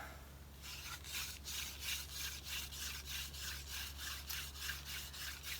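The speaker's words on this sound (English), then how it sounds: "So let's go ahead and jump right into the hand drill friction fire method." Rhythmic back-and-forth rubbing of a yucca hand-drill spindle against a poplar root board for friction fire, steady strokes about twice a second, close and fairly loud.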